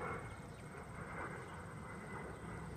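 Outdoors, an airplane drones steadily overhead, a faint continuous engine rumble with a hum that holds evenly across the short stretch.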